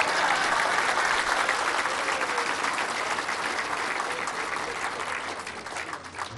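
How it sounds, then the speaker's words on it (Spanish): A large crowd at a bridge inauguration speech in Chiapas breaks into sustained, dense applause, a loud continuous patter of many hands that holds steady for several seconds and fades slightly at the end. "Otro aplauso entonces"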